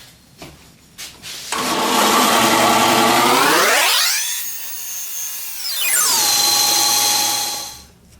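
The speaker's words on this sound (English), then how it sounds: "cut this block of stabilised oak in half on the bandsaw" A bandsaw cuts a block of stabilised oak in half. After a few clicks the motor roars up loudly, its whine dips and recovers as the blade bites into the wood, then it winds down.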